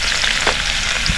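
Crabs land in a hot pan and fry, giving a dense, continuous sizzling hiss with a couple of soft stirring knocks, close and fairly loud, with no voices.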